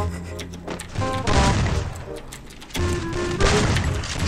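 Rapid bursts of video game gunfire, loud and close, crackling in two clusters with faint voices underneath.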